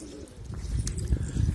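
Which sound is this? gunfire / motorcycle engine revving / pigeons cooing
pigeons cooing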